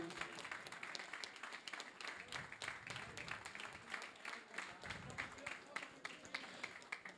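Crowd applause at an evening event in a hall honoring a cycling figure, a steady dense wash of clapping with murmured voices underneath, moderately distant and fairly faint throughout.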